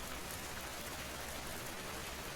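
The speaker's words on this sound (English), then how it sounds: "Rain tapped gently against the windows like whispered secrets." Rain patters steadily against the windows of a taxi on a highway, a soft even wash of fine drops with no voices.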